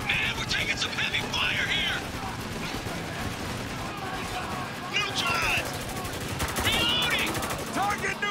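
Heavy machine-gun and rifle fire in the third-person shooter Spec Ops: The Line, rattling bursts that run throughout under shouted soldier voices and radio-style chatter.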